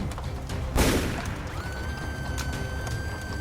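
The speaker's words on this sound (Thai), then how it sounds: "เสียงปืนแผดลั่นดังสนั่นวันไหว พร้อมกับร่างของพานมั่น" A single loud, sharp shotgun blast bursts out near the start, its broadband roar fading quickly into a steady background hum with a faint high tone.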